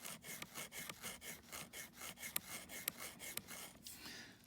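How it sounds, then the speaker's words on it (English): Reed cane for an oboe reed being scraped with a knife along the channel, from about the front end toward the back, as a steady series of rasping strokes, quiet and close with no voices. "using this kind of scrape now from the front end of the channels"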